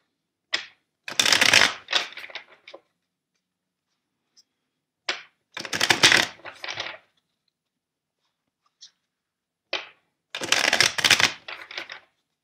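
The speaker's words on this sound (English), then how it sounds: "let's shuffle the deck four times for you" A deck of tarot cards being shuffled by hand, three separate bursts of riffling and flapping cards spaced several seconds apart, each followed by softer settling taps, close and clear with quiet pauses between.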